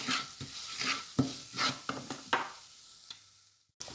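A spoon stirs Kashmiri red chilli powder into a frying masala, with soft rhythmic scrapes against the pan over a gentle sizzle that fades toward the end before a final knock.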